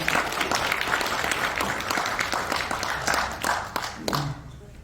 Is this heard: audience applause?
yes